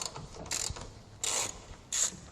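Ratchet turning a T30 Torx bit to remove a taillight on a 2013 Toyota Tundra, three short, crisp clicking bursts close by, separated by quiet pauses.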